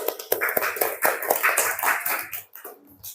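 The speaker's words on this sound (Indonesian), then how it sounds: "Coba tepuk tangan semuanya." Classroom audience clapping hands after a group presentation, a short burst of brisk scattered claps from several people close by that thins out and fades near the end.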